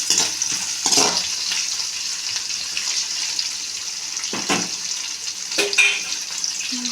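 A spiced tomato mixture is stirred and sizzles steadily in a pan while salt is added for egg tomato pulao, with a few louder scrapes and clinks over a constant frying hiss.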